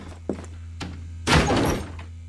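A door opens in a video game. A few soft thuds are followed by a louder, scraping rush as the door swings, all over a steady low hum.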